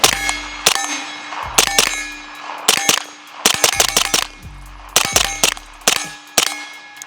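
A Springfield Kuna on a Nexus Evo lower fires sharp, loud gunshots in quick bursts and single shots, each ringing with a metallic clang. The shots come in clusters with short pauses between them.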